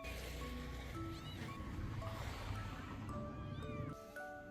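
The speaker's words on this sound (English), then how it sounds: "Very small kitten." A very small newborn stray kitten meows in a series of thin, high, rising cries over a steady outdoor rumble and engine-like drone, with someone talking faintly at times.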